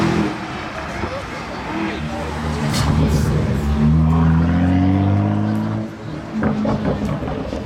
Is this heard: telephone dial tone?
no